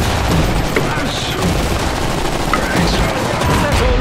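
Dense, continuous gunfire and rattling bursts in the dieselpunk real-time strategy game Iron Harvest 1920+, loud and unbroken, with soldiers' voices shouting over the battle.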